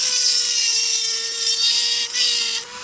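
An electric drill bores into a hardened steel knife blade, giving a steady, loud high-pitched whine with a sustained tonal hum that dips briefly near the end.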